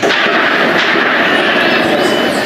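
Dense, continuous gunfire rattles through an armed gang invasion of a Rio de Janeiro community, loud and sustained with no clear pauses, filling the whole stretch with a harsh, noisy wash.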